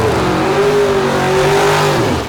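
A 1969 Buick convertible muscle car roars loudly at a Buick GS Nationals drag event, its engine note rising steadily through a hard launch, close and continuous with no talking.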